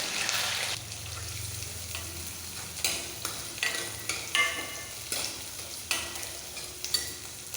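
Oil sizzles and crackles steadily as onions fry with curry leaves and green chillies for a Tamil chicken curry, with repeated scraping and stirring strokes in the pan, fairly close and moderately loud.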